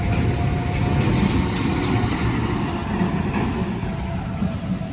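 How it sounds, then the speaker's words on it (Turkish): A truck passing on a rural road beside old oriental plane trees in a quiet highland village, heard as a loud, steady, close rumble that fades slightly toward the end, with no talking. "Kamyon geçsin de sesini duyursun diye bekliyorum."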